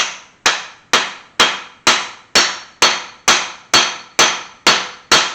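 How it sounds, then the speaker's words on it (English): A hammer tapping an impact socket onto a motor crank gear, eleven sharp metallic strikes at an even pace about every half second, each ringing out briefly, close and loud with no talk. "I'm just tapping it just to get it on as far as it needs to go."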